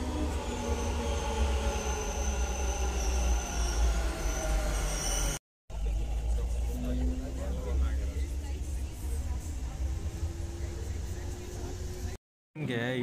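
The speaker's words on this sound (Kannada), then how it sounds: "ಇನ್ನು ನೋಡಿ ಮೆಟ್ರೋ ಎಲ್ಲಿದೆ, ಅಲ್ಲಿದೆ. ಇಲ್ಲಿ ಸೌಂಡ್ ಮಾತ್ರ ಹೆವಿ ಸೌಂಡ್ ಬರ್ತಿದೆ ಜನಕ್ಕೆ." A Bangalore metro train running, with a heavy continuous rumble and rising wheel squeal, loud and close, cut by two brief silences.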